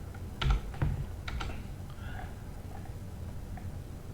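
A short burst of computer keyboard typing, several crisp clicking keystrokes in quick succession near the start, then quieter room tone with faint ticks.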